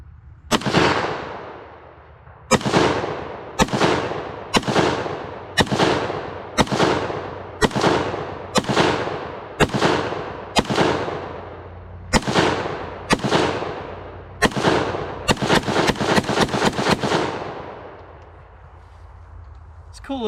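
An IWI Ace-21 Galil-magazine pistol fires at an outdoor range: about a dozen loud, sharp shots spaced roughly a second apart, each ringing out with a decaying echo, then a quick rapid string of shots at the end.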